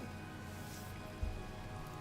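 Rain falls in the Minecraft video game, a faint, even hiss of drops on surfaces that continues without a break, with one soft thump toward the end.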